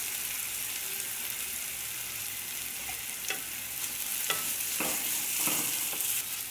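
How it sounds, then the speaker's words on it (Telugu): Ginger garlic paste with turmeric frying in a pan for stuffed brinjal curry, giving a steady soft sizzle throughout with a few brief stirring scrapes near the end. "ఇది ఇలా పచ్చివాసన పోయేంత వరకు వేయించాలి"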